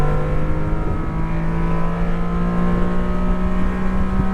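A 1991 Honda Beat drives along with a steady engine drone and a sustained low hum, close and loud, holding an even level throughout with no talking.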